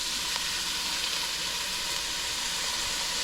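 Chopped onions sautéing in olive oil for a Moroccan soup, a steady, dense sizzle and hiss that holds evenly throughout at moderate loudness, with no voices over it.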